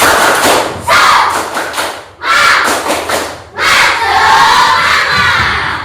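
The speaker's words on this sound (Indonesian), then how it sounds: "mari kita dulu ice breaking dulu, ya. Tepuk semangat, oke. Tepuk semangat." A classroom of students performs the tepuk semangat clapping chant, with loud, rhythmic bursts of shouting and clapping broken by short pauses and ending in a longer, sustained cry.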